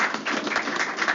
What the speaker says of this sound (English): We'll give her a nice round of applause, please.